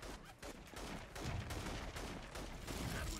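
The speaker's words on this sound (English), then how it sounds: "I think someone's shooting me from up there." Gunfire from above in the video game Infamous: Second Son crackles in quick, repeated volleys, a faint and dense stream of shots running through the whole stretch, with no talking.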